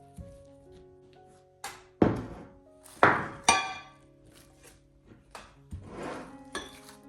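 Crushed biscuits, melted butter and milk are stirred together in a bowl, heard as a run of sharp clinks and knocks of a utensil against the dish, with quieter scraping in between and soft background music.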